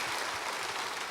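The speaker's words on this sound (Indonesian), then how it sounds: "Mau tepuk tangan buat Yesus saudara?" A church congregation claps for Jesus during a sermon, producing a short burst of dense, even applause that fills the room steadily, with no voices over it.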